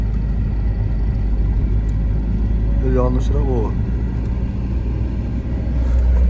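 Steady low engine rumble fills the cabin of a 1993 Tofaş Şahin car on the move, close and constant, with a brief spoken phrase in the middle.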